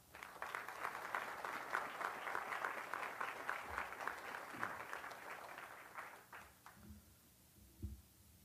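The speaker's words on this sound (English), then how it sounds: "Please join me in a round of applause for our family members and their spouses." At a military change of responsibility ceremony, the audience gives a sustained round of applause that swells, holds, then thins into scattered claps and low thumps by the end, with no talk.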